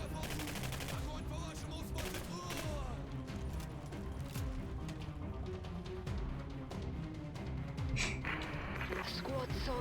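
Bursts of gunfire in the video game Singularity crack over a busy, dense mix, with repeated shots and sharp impacts throughout and voices mixed in.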